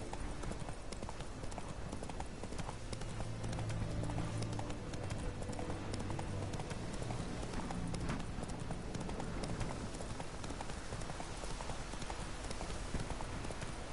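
Horse hooves clip-clopping in The Witcher 3 video game, a steady rapid trotting rhythm running throughout over dense game ambience, fairly faint overall.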